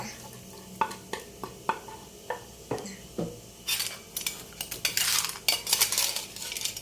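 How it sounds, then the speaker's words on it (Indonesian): Ground spice paste pushed from a stone mortar into a pot of Acehnese soup broth, heard as a run of clinks and scrapes of utensil on stoneware followed by louder wet sizzling and stirring, close up with no talk. "tuangkan hasil ulekan ini ke dalam kuahnya"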